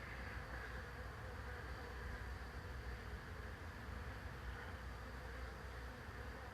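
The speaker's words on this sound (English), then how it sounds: "there's a bunch of bees" A dense swarm of bees hums in a steady, unbroken drone, close and loud, filling the whole stretch without pause or voices.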